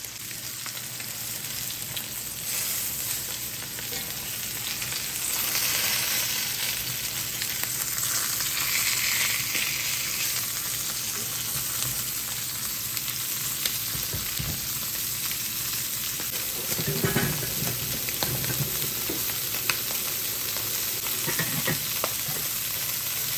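Continuous sizzling and spattering of Cajun chicken frying in a pan, with occasional clinks and shuffles, no talking.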